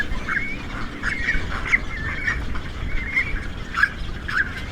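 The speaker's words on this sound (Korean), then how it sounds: "물고기를 어미가 통째로 삼키자 새끼들이 서로 달라며 아우성입니다" Great cormorant chicks squawk for food in a nest high in a pine tree, a run of repeated harsh, nasal calls at fairly close range over a steady outdoor background.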